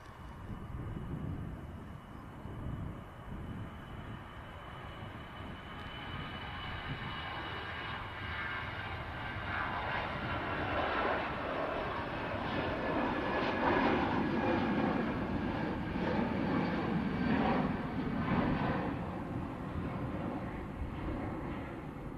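A Ryanair airliner landing at Manchester Airport, its engine roar rising steadily from a distant rumble to a louder, broad whine and rush as it nears, heard alone without talk.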